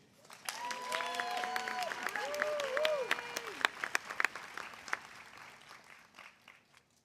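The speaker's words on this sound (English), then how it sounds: "You may now applaud the 2020 master's degree alumni" A crowd claps at a university commencement ceremony, building then fading, with a voice talking over the start of the applause.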